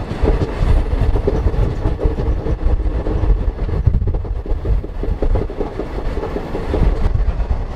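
A train runs along the rails with a loud, continuous rumble and rhythmic clickety-clack from the wheels. The sound is steady and close, as if heard from on board, with no voices.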